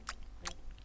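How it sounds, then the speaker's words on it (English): Someone chews food close up, with two or three quick, faint moist crunching bites spaced evenly over a soft background hum. "Chewing."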